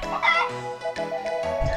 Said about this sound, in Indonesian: Itu ayam yang sangat ceria ya